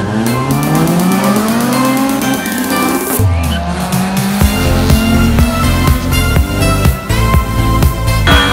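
A drag racing car revs hard and launches down the strip, the engine note climbing through several gear sweeps with tire squeal and another loud engine close by, roaring continuously.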